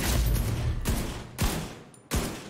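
Bursts of secondary-weapon gunfire in The Division 2, fired blind with damage mods: three loud, close volleys with brief gaps between them, each one sharp and cracking.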